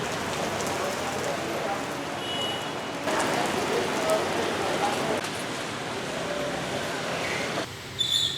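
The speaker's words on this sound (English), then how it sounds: "I thought it's going to rain again" Heavy rain pours outside a cafe in Ho Chi Minh City, a dense, steady hiss of drops on surfaces that swells partway through, with faint background sounds underneath.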